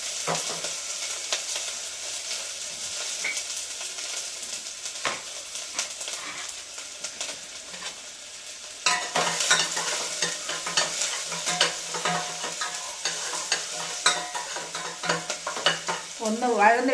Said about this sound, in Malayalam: കുറച്ച് സവാള ഞാൻ അരിഞ്ഞ് വെച്ചിട്ടുണ്ട്. അതും ഇട്ട് കൊടുത്ത് വഴറ്റിയെടുക്കാം.